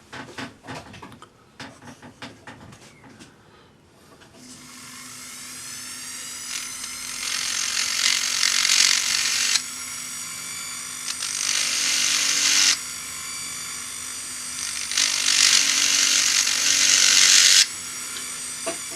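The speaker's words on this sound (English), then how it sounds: "I'm using a heart burr, which is a knife-edged burr, in my handpiece, and I'm just going to define those cuts" Heart burr, a knife-edged bit, spinning in a rotary handpiece while cutting into a steel decorative stamp; a steady high whine runs throughout, rising in loud bursts as the burr bites into the steel and easing between cuts.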